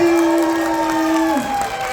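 Audience applause and cheering from a crowd, loud and continuous over sustained tonal music or sound, with a bright steady texture throughout.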